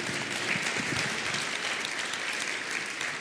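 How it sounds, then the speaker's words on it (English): A conference audience gives a brief, dense burst of clapping for a departing panelist, steady and close, sustained across the whole moment without a pause. "He gets a solo round of applause."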